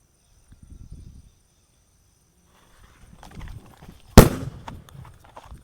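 A nattu vedi Diwali firecracker with a very short fuse goes off outdoors in one sharp, loud, close bang after a few seconds of faint rustling and movement, followed by a brief crackling tail.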